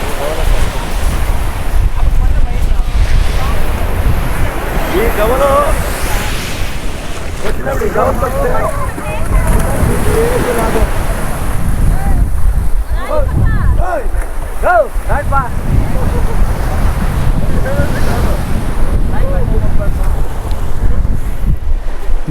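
Wind and surf on a shell-covered beach at St Mary's Island, with waves washing continuously and steady wind buffeting the microphone; faint voices come and go underneath.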